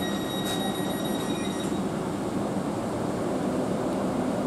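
A steady rumble of a TransPennine Express Class 802 train departing York station, with faint high squeals of wheels early on, continuous and fairly close.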